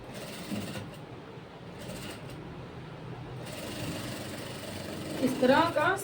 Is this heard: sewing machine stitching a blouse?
yes